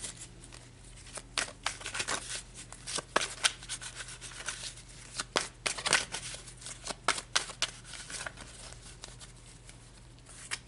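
Tarot cards are shuffled and pulled from the deck, giving close, papery riffling and slapping bursts in an uneven rhythm for about ten seconds, with no voice over them.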